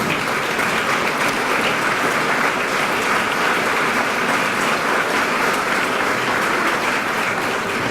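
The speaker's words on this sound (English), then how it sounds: "be recognized and accept our applause" Sustained applause from an audience at a Better Business Bureau awards ceremony, steady and dense clapping filling the room for the whole stretch without a break.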